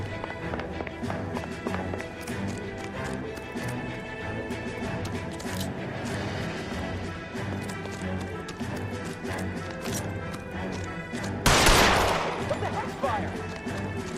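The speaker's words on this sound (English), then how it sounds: "I was just trying to fire a warning shot." Gunfire in the LA Noire game on PS4, set against a busy layer of running footsteps and game noise, with one loud sharp burst standing out near the end and speech-like voices mixed in.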